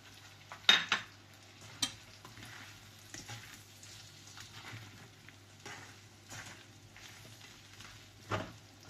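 Small dried shrimp are stirred in a pan for a kangkong dish with pork, giving a soft, low sizzle under a few sharp clinks and scrapes of a utensil against the pan, quiet and close.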